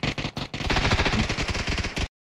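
Rapid automatic gunfire in PUBG: a dense burst of loud cracking shots in quick succession lasting about two seconds before cutting off abruptly.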